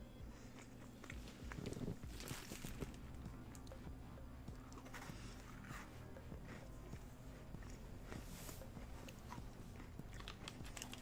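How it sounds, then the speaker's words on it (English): Mukbang-style ASMR eating, with soft close-up bites and chewing crunches repeating faintly over a low background hum. "Here, have some mukbang ASMR."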